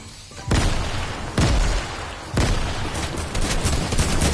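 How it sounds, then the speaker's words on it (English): Gunfire in the video game Fortnite: several loud, close shots, with big bursts near 0.5, 1.4 and 2.4 seconds over a dense, continuous rattle of fire and game noise, with no talking. "Why are you shooting me?"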